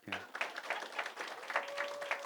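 A church congregation at a Friday prayer gathering claps in applause, a moderately quiet, steady patter of many hands from across the room, with a brief voice and a held tone underneath.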